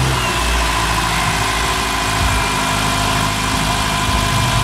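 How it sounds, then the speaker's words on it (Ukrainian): A 2009 Mitsubishi Lancer X (CY4A) engine idles steadily after starting, a loud, close, even hum with a constant low rumble and no revving or talk. "Йдемо, запускаємо двигун та чекаємо, доки погасне лампа тиску оливи."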